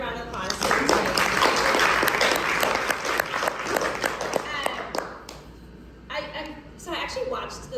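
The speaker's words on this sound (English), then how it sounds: "Can we give another round of applause?" An audience at a New York City performance of the play Dry Land gives a lively round of applause that swells, then thins out and dies away, with a few voices audible as it fades.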